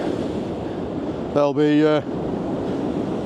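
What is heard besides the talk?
ocean waves churning during stormy high tide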